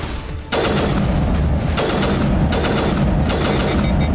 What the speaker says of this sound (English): Yo, we have a 3-shot burst?